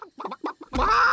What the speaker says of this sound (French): Ces animaux sont des poules.